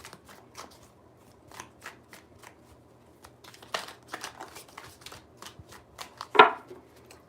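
Deck of tarot cards being shuffled by hand in a series of soft, papery riffles and taps, close and fairly quiet, ending with a sharper snap of cards.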